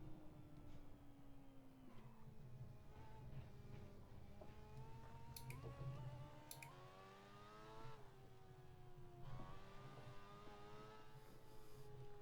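Racing car engine in Assetto Corsa holds a steady high drone, its pitch climbing and dropping through gear shifts while drifting, with a couple of brief sharp bursts midway and no voices.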